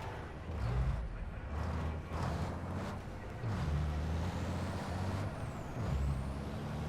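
A heavy racing truck reverses in the FIA European Truck Racing Championship video game, its engine droning low and steady throughout with air-brake hisses and faint high whines over it.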